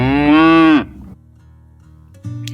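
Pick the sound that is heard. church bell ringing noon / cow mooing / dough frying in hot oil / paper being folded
cow mooing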